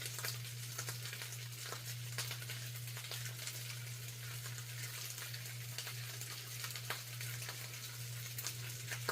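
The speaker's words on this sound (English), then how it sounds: "I need to stir my meat." Tocino meat fries in a pan while being stirred, a faint, steady sizzle over a constant low hum, with occasional soft scrapes and no talk.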